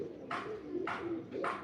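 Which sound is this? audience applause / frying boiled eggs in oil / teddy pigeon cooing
teddy pigeon cooing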